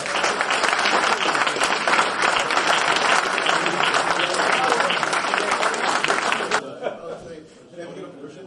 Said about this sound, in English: For everybody, a big round of applause.